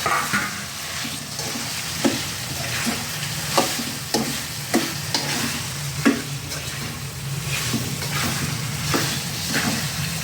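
Prawns sizzle in a tomato masala in a home curry pan, a continuous close frying hiss broken by regular scraping stirs every second or so.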